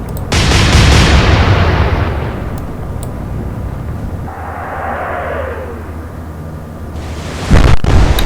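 Heavy naval guns on a Royal Navy warship in Atlantic Fleet, a loud booming blast that rumbles away for several seconds, then another deep shot near the end.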